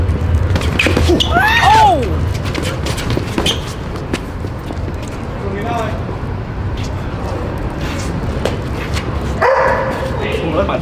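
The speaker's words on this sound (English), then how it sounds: "That's my dog!" A dog barks and yelps amid loud, excited voices shouting nearby during public street boxing, with scuffling noise and a sharp whine rising over the commotion.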